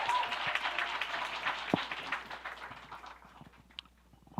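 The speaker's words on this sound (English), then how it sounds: "Let's give him another round of applause." A summit audience gives Reverend Yearwood a round of applause, a fairly soft crowd clapping that is strongest at the start and tapers off, with a few sharp knocks and scattered voices as it dies away.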